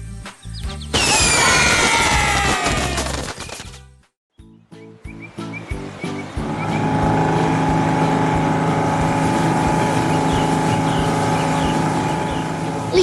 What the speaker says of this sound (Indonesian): Lihatlah, kapal besar itu membelah air dengan tenang.